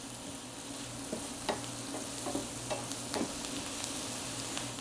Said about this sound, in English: So I'm going to stir this just a little bit.